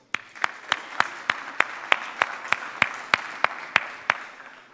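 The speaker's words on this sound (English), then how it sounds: "I think they need a round of applause" Applause at a conference opening session, led by one sharp, close, evenly paced clap repeated about sixteen times in rhythm over a softer bed of scattered clapping from the room.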